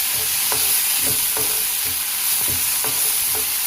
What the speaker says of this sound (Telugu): ఈ అల్లం వెల్లుల్లి పేస్ట్ పచ్చివాసన పోయేంత వరకు వేయించుకోవాలి.